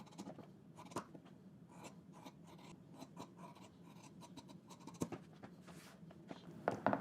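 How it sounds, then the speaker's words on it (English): Scissors snip along a coat's fabric seam allowance at the corners, a series of faint, close, irregular cuts and rustles with quiet pauses between them. "Let's go ahead and take care of these corners and trim some of the seam allowance down."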